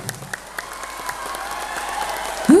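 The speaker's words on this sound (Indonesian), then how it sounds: "Beri tepuk tangan yang meriah." Applause and crowd noise rise at an Indonesian Democratic Party campaign rally in Bima welcoming the party chairman, with a few sharp claps standing out over a steady roar that swells near the end.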